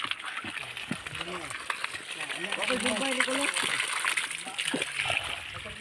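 Fresh water flows steadily in rural Bansalan, Davao del Sur, a soft continuous rushing close by with people talking over it.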